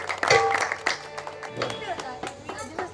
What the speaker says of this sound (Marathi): आई वडिलांसाठी पुन्हा एकदा जोरदार टाळ्या